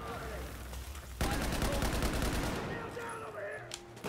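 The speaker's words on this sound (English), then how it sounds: "even when you tap fire this gun, it just sounds like you're going full auto" SAR-21 assault rifle gunfire in Battlefield 4 video game, a rapid burst of loud, evenly spaced shots that sounds almost fully automatic, starting after a quieter moment and fading into scattered distant battle noise.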